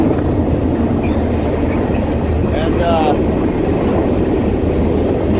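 A freight train rolls along, recorded while riding aboard, with a steady heavy rumble and metallic clatter and squeal throughout and a brief spoken word.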